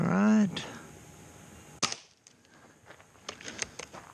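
A Gamo Viper Express short-barrel air rifle fires a pellet with one sharp crack, and a faint mechanical click follows. A voice is briefly heard just before the shot, and quieter taps come afterward.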